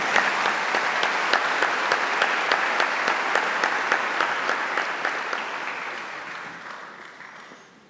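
A church congregation applauds after the Gospel reading at Mass, dense steady clapping from many hands that fades out over several seconds, with no voices over it.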